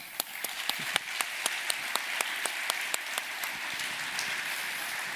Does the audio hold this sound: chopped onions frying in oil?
no